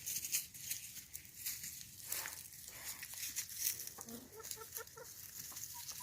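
Chickens cluck softly outdoors with occasional rooster sounds, over a faint rustling, pattering background with no talking.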